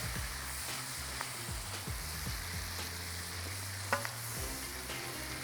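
Shrimp sizzle steadily in a hot pan of Alfredo sauce base, a constant crackling fry with occasional stirring scrapes and a sharp clink near the end.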